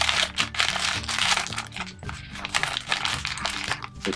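Scissors snip and crinkle through silver foil blind bag packaging up close, with steady rustling and crackling of the thin wrapper throughout.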